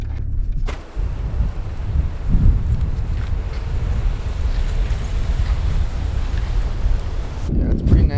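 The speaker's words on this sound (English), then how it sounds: "Wind setting in." Strong wind roars and buffets steadily across a snowy roadside where a truck is pulling out, a loud broadband rush close to the microphone with brief breaks near the start and end.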